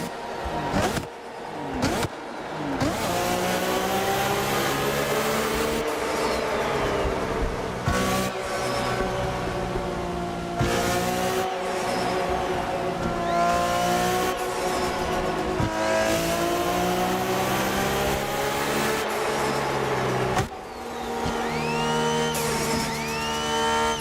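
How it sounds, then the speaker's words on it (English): High-powered car in the Assetto Corsa racing game, driven through a tunnel on a highway in traffic, engine revving hard and loud with rising gear sweeps, sharp upshifts and brief throttle lifts, echoing continuously. "Let's take a listen to this car in the tunnel"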